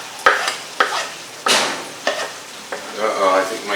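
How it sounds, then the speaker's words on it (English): Onion, mushroom and garlic hit a hot pan for beef stroganoff, loud sizzling bursts and scraping stirs repeating every half second or so, close and continuous with no talk. "now we're going to add our onion and mushroom and garlic"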